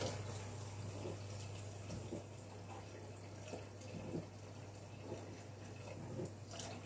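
Water is poured into a Thermomix mixing bowl, 560 grams in all, making a steady, continuous splashing stream over a low hum that holds evenly for several seconds.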